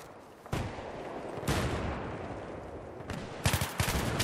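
Gunfire in the video game Battlefield 3, a dense sustained burst of automatic rifle fire with sharp sharper shots punctuating it, loud and close.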